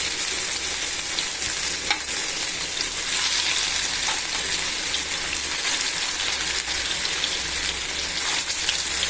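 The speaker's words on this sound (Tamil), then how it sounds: "மீனெல்லாம் ஒன்றுனா சேர்த்து வறுத்தரலாம்," Ribbonfish (vaala meen) pieces frying together in a kadai, a loud, dense, continuous crackling sizzle like heavy rain, steady and close throughout with no voices.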